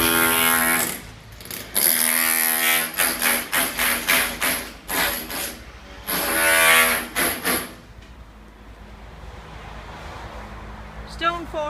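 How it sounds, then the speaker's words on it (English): Loud, harsh construction drilling in an apartment building comes in repeated bursts with brief pauses, then stops, leaving a quieter stretch with faint noises. "They're allowed to drill, but the noise is absolutely unbelievable."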